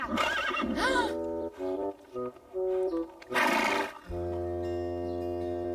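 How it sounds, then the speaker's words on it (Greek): Cartoon horses neigh loudly in two long whinnies separated by short tonal bursts, ending in a sustained low musical tone. "Τα άλογά σας δεν δαγκώνουν, έτσι?"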